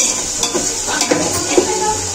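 Chicken and a dry fry cooking in pots in a home kitchen, with a steady sizzle and occasional soft scrapes and clinks as the food is stirred.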